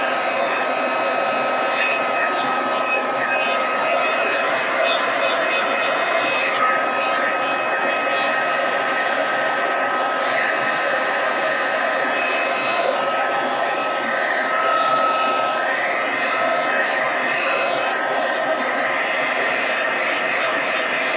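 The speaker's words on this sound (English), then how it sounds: "You can just use a hair dryer." A hair dryer blows steadily and loudly throughout, a constant whooshing hum with no pauses, drying a watercolour painting.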